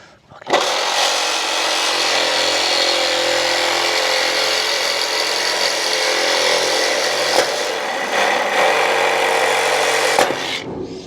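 A power saw blade cuts through shipping container steel with a loud, continuous harsh grinding that runs steadily for about ten seconds and stops abruptly near the end.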